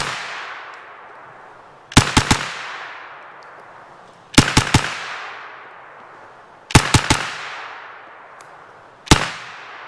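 Nova NAK-9R 9mm AK-pattern rifle from Cugir, Romania, fitted with a muzzle brake and firing S&B ammunition: four separate bursts of two or three sharp, loud shots each, spaced about two seconds apart, with long reverberant decays between them and no talk.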